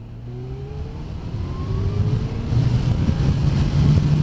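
Kawasaki H2 SX SE supercharged motorcycle accelerating, engine pitch climbing in rising tones that swell louder over the run, with a faint high chirp from the supercharger blades amid steady wind rush.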